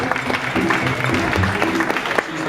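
Audience applause welcoming a singer to the stage at a live show, a moderate, steady patter of clapping from a crowd, with a few faint voices mixed in.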